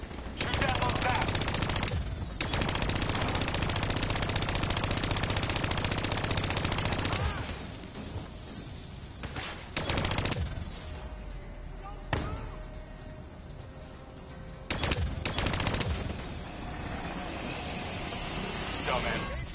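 Automatic gunfire from the Black Ops 3 campaign, loud sustained bursts of rapid shots with short gaps, then scattered blasts and pauses while a voice talks over the action.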